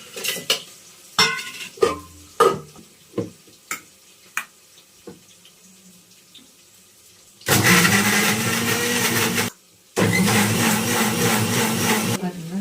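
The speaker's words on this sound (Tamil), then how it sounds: "தேவையான மிளகாத்தூள் இதில் போட்டு இதில் போட்டு ஆட்டிடணும்." A mixer grinder grinding a masala of coconut, onion, tomato, cinnamon, cloves, garlic and chili powder, first preceded by a series of clinks and taps as the jar is loaded, then two loud sustained whirring bursts separated by a brief pause.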